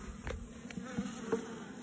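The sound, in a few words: honeybees buzzing at a hive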